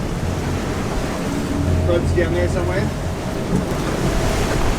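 Steady wind and surf at sea aboard a sailboat off Fiji, with the mainsail down after a reefing line broke in strong wind; constant broadband rush of water and wind noise, with a person speaking briefly partway through.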